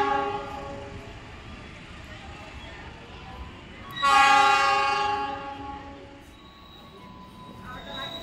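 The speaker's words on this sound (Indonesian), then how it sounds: "Kereta api Bima dari Jakarta Gambir tujuan akhir Surabaya Gubeng, kelas eksekutif dan kompartemen suite." A passenger train at a busy Jakarta station at night, with steady rumble and a loud horn blast about halfway through that fades gradually, over a station announcement voice.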